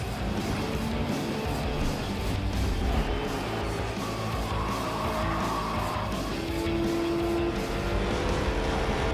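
The Ram Hemi engine of a NASCAR race truck roars steadily at a distance, a dense, continuous rumble with a rising tonal whine partway through, heard alone without talk.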